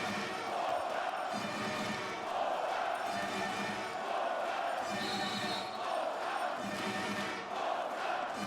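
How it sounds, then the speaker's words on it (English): Arena crowd at a European men's handball championship match between Poland and Russia, a steady loud roar of voices and chanting sustained throughout, swelling slightly in places, with no close talk. "The crowd in good voice again now, as they sense that Poland may have an opportunity here to retake the upper hand"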